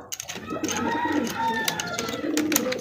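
Pigeons coo and flutter inside a cage, soft repeated calls close by, with someone talking over them.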